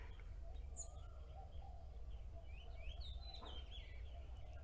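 Quiet outdoor ambience with faint chicken clucks and scattered bird chirps over a low steady hum, no talking.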